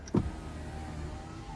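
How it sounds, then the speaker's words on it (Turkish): Rear power window of a Volkswagen ID.4 closing, a brief click followed by a soft, faint electric motor whir inside the car, heard close and alone. "Arka camı kapattım."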